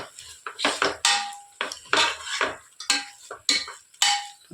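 Mushroom biryani masala with mint and coriander leaves is stirred in a pot, with a spoon clanking against the metal in a rhythmic series of sharp knocks and scrapes, close and distinct.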